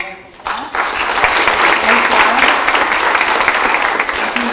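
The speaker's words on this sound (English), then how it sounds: "we'll all give a round of applause to Jan and her wonderful staff" A room of people at a scholarship bureau event break into applause, starting abruptly and holding as a dense, steady roar of clapping.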